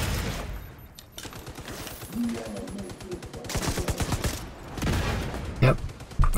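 An enemy's grenade launcher fires in The Division 2, a rapid burst of sharp blasts and booming impacts crowding together over several seconds, loud and close amid gunfire, with a voice talking over the shooting.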